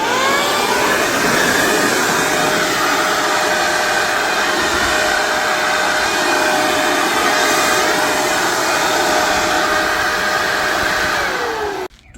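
Black & Decker BEBL7000 backpack leaf blower running at a steady loud whine with a broad airy rush, close and continuous for about twelve seconds before cutting off abruptly.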